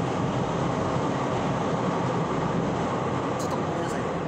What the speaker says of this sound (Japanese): 電車が通ってます。